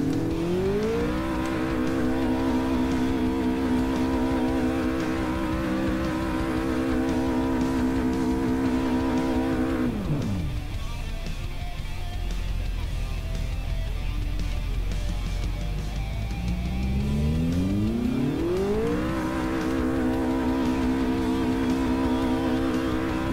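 A Renault 8 Gordini engine revs hard, the pitch climbing high and holding, dropping away to a low rumble, then rising again to a loud sustained scream.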